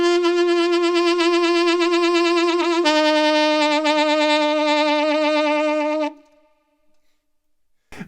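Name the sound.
imitation of bleating goat vibrato singing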